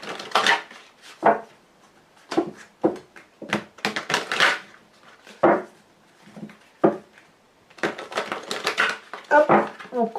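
Someone shuffles and cuts a Lenormand card deck close by, making irregular bursts of crisp slapping and clicking with short quiet gaps between them.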